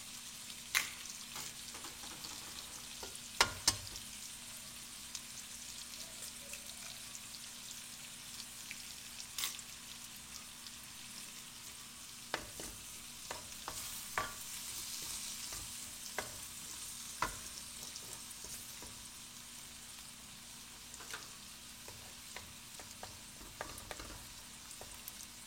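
Scrambled eggs fry in a pan with a steady, soft sizzle, broken by occasional clicks and scrapes as they are stirred; the sound stays even and moderately quiet throughout.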